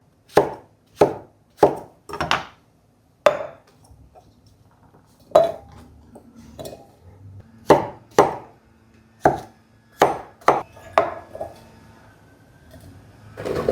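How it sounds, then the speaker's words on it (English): A knife chops zucchini into cubes on a cutting board, producing about sixteen sharp, close thunks in irregular bursts with short pauses between runs, alone without talk. "Oh, we need to cut our zucchini. We need 6 cups of cube zucchinis."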